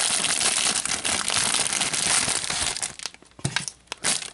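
A small plastic baggie from a model-kit issue being handled and cut open, with close, busy crinkling that thins into a few sharp rustles and snips.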